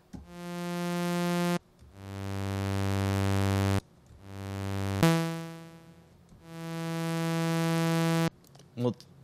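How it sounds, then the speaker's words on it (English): Soloed oscillator from a Native Instruments Massive synth patch, shaped by an envelope with a logarithmic curve and shortened release: four sustained, harmonically rich held notes, each swelling in and cutting off sharply, followed by a brief trailing blip. "so oscillator 1 soloed will sound like this"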